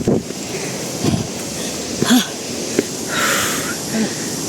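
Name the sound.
heavy panting breath after hiking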